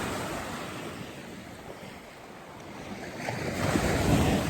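Ocean waves along the San Diego shore roll in steadily with a hiss of surf and some wind buffeting the microphone, the wash building louder toward the end, with no voices.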